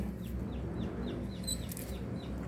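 Rhode Island and native chickens cluck softly in a short run of quiet, close calls over a low background hum, with no talking.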